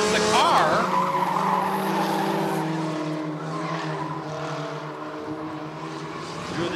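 Race cars skidding through a figure 8 feature at Rockford Speedway, with loud sustained tire squeal and engine roar from the track, fading slightly as the cars move through the crossing.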